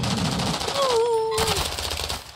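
Rapid automatic gunfire in the Call of Duty video game, loud and close, briefly interrupted by a tonal whistling sound before the shooting resumes.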